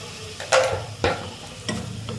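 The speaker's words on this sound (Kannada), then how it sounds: "ನೀವು ಆಲೂಗಡ್ಡೆ ಪೀಸಸ್ ಮಾಡಿರೋದನ್ನು ಈ ಕರಿಗೆ ಹಾಕಿ" Potato pieces tumble into a frying tomato curry, giving a few bursts of sizzling with scraping stirs in between, close and moderately loud, with no voices.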